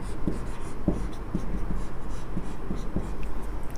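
Handwriting on a board or paper in a classroom, a steady series of short scratchy strokes repeating at an even rhythm, close and clear.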